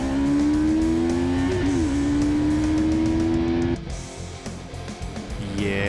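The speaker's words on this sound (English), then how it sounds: "It was an empty road, so I thought let's give that 0 to 60 another go." Yamaha 2022 R3 sport bike accelerating hard on an empty road during a 0 to 60 run, its engine whine climbing through the revs, a brief gear change mid-run, then dropping off and building again.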